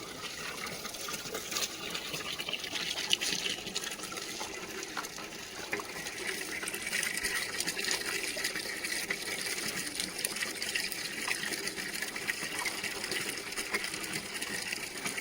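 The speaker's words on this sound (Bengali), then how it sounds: "এরকমভাবে জলটা দিলে সব জায়গায় লাগবে।" Water pours and splashes steadily onto freshly laid brick masonry to cure it, a faint continuous gush with no break.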